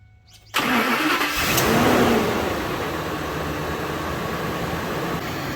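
A car engine cranks and catches abruptly, revs briefly, then settles into a steady, close idle rumble with no talk over it.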